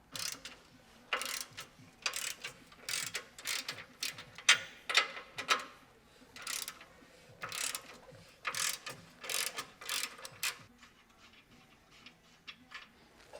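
A hand ratchet loosens and spins off 14mm nuts from the transmission cross member bolts on a raised Tacoma, making repeated close, crisp bursts of clicking with short pauses between strokes.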